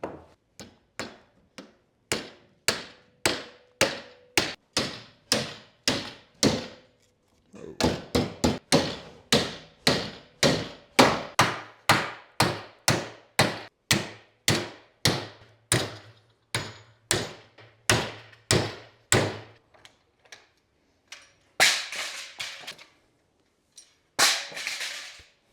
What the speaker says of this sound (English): hammer these in.